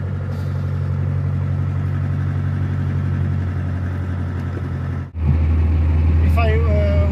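Mercedes 200D W123 diesel engine in fourth gear, driven through city traffic, a steady low drone heard from inside the car, with a brief dip and then a rougher, louder hum.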